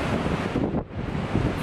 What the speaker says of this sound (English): It's really windy, so it's probably really hard to ride that thing.